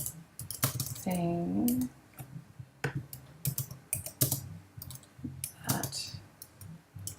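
Clicking keystrokes from typing on a computer keyboard, irregular taps spread across the whole stretch, fairly close, with a short voice in the middle and a brief word spoken.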